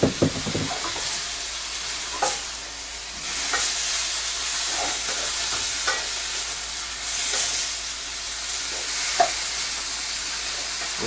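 Dry rigatoni pasta tossed into a sizzling pan of vegetables for pasta primavera, steady frying hiss with repeated scraping stirs and clatters every second or two, close and fairly loud.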